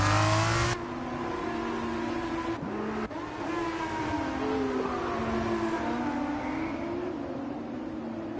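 Formula 2 race cars in a racing game at the Azerbaijan round, engines droning and revving at high pitch as cars pass one another, with a sharp cut and shifting engine tones throughout, moderately loud and steady.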